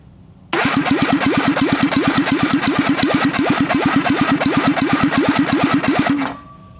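A Wankel rotary motorcycle engine cranks on a test stand in a steady, rapid, loud chugging rhythm for about six seconds, then cuts off abruptly without catching.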